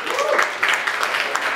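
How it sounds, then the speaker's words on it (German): An audience at a singer-songwriter slam in Wuppertal claps steadily, a dense burst of applause at close range that keeps going for the whole moment. "das ist doch mal ein Applaus wert"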